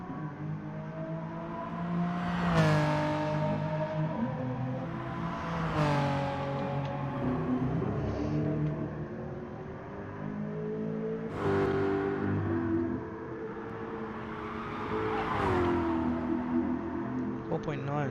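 A BMW race car in a racing video game circles the track, its engine rising and falling in repeated revving sweeps as it shifts, with a commentator talking over it throughout.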